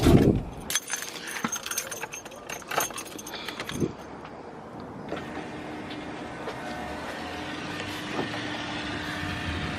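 Keys jangle and clink close up as someone starts a turbocharged Honda CRX. Sharp metallic rattles come first, then a steady low engine-like hum sets in for the second half, with no speech.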